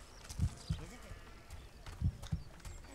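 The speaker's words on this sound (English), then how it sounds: "Did a sheep really scare you that badly?" Sheep in the video game Overlord bleat in a few short calls, moderately near, with faint game ambience between them.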